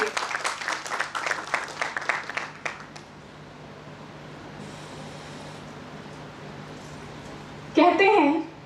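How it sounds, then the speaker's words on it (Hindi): Audience at a literary festival clapping to welcome a guest speaker, a lively round of applause for about three seconds that drops to a quiet room hum, then a brief loud burst near the end. "तालियों के साथ स्वागत कीजिए"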